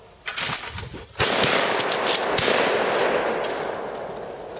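A gun fires at a shooting range: one sharp, loud report followed by a second shot, then a long rumbling decay, with no talk over it.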